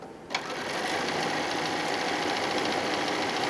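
A sewing machine runs steadily, zigzag stitching along a fabric edge for a quilt-as-you-go cosmetic bag, starting after a brief pause and then humming and rattling continuously, close and even.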